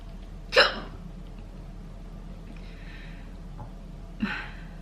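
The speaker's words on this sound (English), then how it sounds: "I literally hiccup all the time." A person hiccups twice, a sharp close hiccup near the start and a softer one near the end, separated by quiet room tone.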